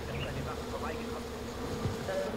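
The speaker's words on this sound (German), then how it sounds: "Ich höre einen scheiß Bienennest." Bee nest in the Far Cry 4 video game, giving off a continuous, fairly soft insect buzz that drones steadily throughout with slight wavering, close and unbroken.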